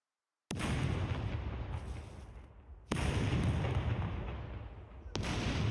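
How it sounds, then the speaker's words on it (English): A grenade explodes in the survival game SCUM with a loud, sudden blast that rolls into a long rumbling decay, followed by two more heavy booms close by. "Oh, there's a grenade."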